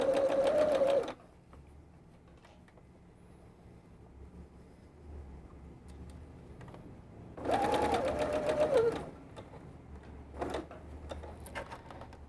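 A sewing machine stitching gathers in fabric, with two loud bursts of steady, fast, whirring stitching separated by a quiet pause, then short stitching taps near the end, close and alone.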